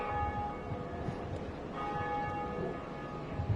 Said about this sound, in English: That's the first bell!